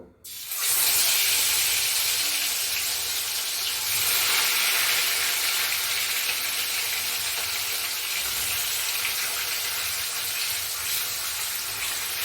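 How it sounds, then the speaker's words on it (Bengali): Loud, continuous sizzling of fish frying in hot mustard oil, starting abruptly and holding a steady crackling hiss throughout. "আমার সর্ষের তেলটা গরম হয়ে গেছে, এবার মাছগুলো ভেজে নেব"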